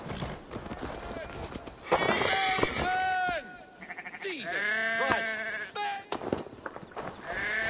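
Sheep bleating in Assassin's Creed Valhalla, several wavering bleats mixed with horse hoof clip-clop and a whinny, with someone talking throughout.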